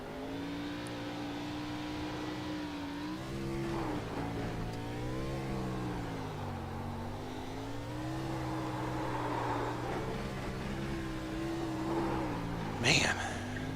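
A race car engine at Daytona International Speedway revs and warbles continuously through victory burnouts in an ARCA race, the pitch rising and falling in long sweeps. A commentator talks over it, and a sharp burst near the end stands out.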